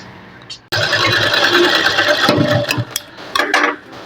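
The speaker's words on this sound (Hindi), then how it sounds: "ये सेंटर को रखते हुए यहाँ से हम सिलाई लगाएंगे।" Motor of a sewing machine stitching a Sabyasachi blouse starts abruptly and runs as a loud, close, steady whir, then slows and sputters in short bursts near the end.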